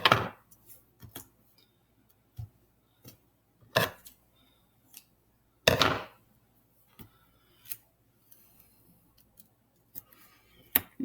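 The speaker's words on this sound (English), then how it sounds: "I'm going to tape it down on either side" Adhesive tape pulled off a roll and pressed down over wires and aluminum foil, heard as sharp, separate rips and crackles spaced a second or two apart, close and fairly quiet, with near-silence between.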